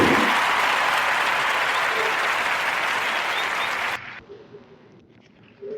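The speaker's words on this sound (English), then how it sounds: "I want to give a Warm Narrative Podcast round of applause for Mrs. Erica Badu." A crowd applauds loudly and continuously for about four seconds, then the clapping cuts off abruptly, leaving a quiet room tone.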